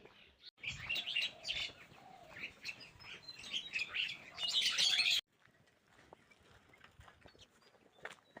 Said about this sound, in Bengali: প্রচুর পাখির কিচির মিচির শব্দ আপনারা কি শুনতে পাইতেছেন